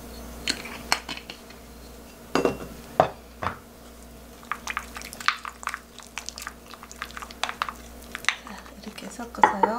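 Seasoning being mixed in a bowl after a half spoon of sesame or perilla oil is added: a spoon scrapes and clinks against the dish in irregular taps and short scraping strokes, close and moderately loud.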